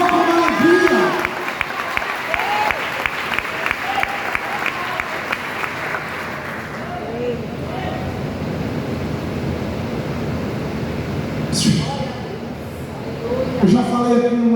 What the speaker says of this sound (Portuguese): Aplaude o Senhor com alegria